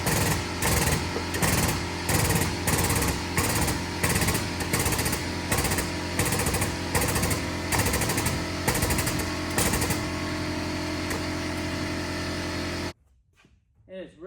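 Rapid, loud metal hammering on the pinch weld of a Buick car body under rebuild, a continuous string of hard strikes for about thirteen seconds before stopping abruptly.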